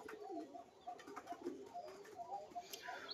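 A Rajshahi high-flying Giribaj pigeon coos in soft repeated throaty phrases, close and fairly quiet, with faint room noise behind and no talk.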